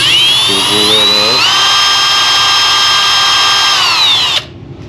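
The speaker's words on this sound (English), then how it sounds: "we'll drill that" A power drill bores out a hole in the aluminum valve body of a 4L60E automatic transmission, whining steadily at close range for about four seconds, its pitch rising as it spins up, then cutting off abruptly.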